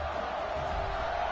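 Large crowd roaring and cheering at a college football stadium known as the Cathedral after a touchdown, a dense, steady wash of voices filling the air without pause.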